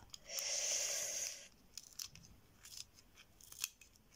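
A pair of scissors cuts steadily for about a second, followed by a few faint clicks and light rustling.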